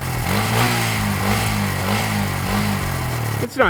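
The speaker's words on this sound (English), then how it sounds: "you get to rev it, you get to hear it" A Honda Grom motorcycle on its stock exhaust revs repeatedly, the engine note climbing and dropping in several close, loud bursts with no voices, ending in a brief scrape.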